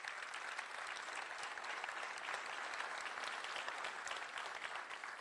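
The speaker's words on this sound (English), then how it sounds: "I better get a round of applause for that one" An audience at a ribbon cutting for the Autonomous Innovation Center applauds, dense steady clapping from many hands holding at an even level throughout, moderately distant.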